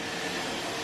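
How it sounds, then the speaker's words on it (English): Hoover vacuum cleaner running in the background of a home kitchen, a faint, steady whooshing hum with no other sounds over it. "you might be able to hear the hoover in the background"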